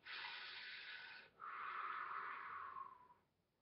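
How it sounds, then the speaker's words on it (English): A deep breath drawn close to the microphone: a long airy inhale, a brief pause, then a slightly longer breathy exhale that fades out. "I'm going to take a deep breath"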